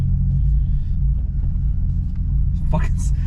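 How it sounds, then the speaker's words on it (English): Infiniti G35 engine idling with a deep, lumpy rumble, running slightly rich with a cammed character; the low drone stays steady and close throughout, with some faint voice sounds over it. "the car literally sounds cammed"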